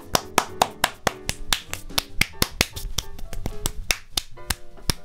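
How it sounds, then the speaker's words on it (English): A hearty round of applause from a small group on a talk show, heard as sharp, closely spaced claps with a snappy, uneven rhythm that carries on steadily throughout. "I would say that was a hearty round of applause"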